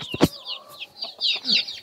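A jungle fowl clucks in short, close bursts, a few sharp calls in quick succession over a quiet background.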